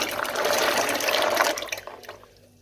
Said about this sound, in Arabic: دلوقتي حطيت ميه في حله الضغط او في اي حله يا بنات، مش لازم حله ضغط. واسقط فيها الفول